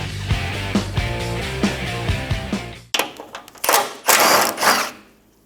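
Mechanical ratcheting clicks and metallic tool noise from a hand ratchet backing out the rear skid plate bolts under a 2000-2006 Toyota Tundra, a run of rhythmic clicks followed by louder bursts of clanking, close and with no talk.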